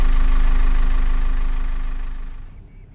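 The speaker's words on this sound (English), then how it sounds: "We'll let it sit here and idle for a little while" A boat engine idles with a steady low throb at anchor, and the sound fades out toward the end.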